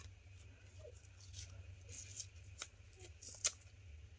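Scissors cutting paper for scrapbooking embellishments, a few faint, close snips and soft paper rustles over a low hum, with no talk.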